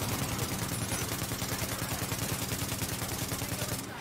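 A turret in The Division video game fires continuous rapid automatic bursts, loud and close, with a dense, driving rhythm throughout and no talking.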